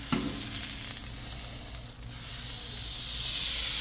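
NY strip steak sizzles on a Blackstone griddle just after being flipped, a close, steady hiss that swells louder and brighter toward the end, with no talking.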